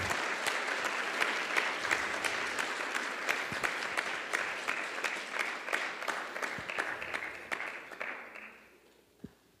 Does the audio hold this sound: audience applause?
yes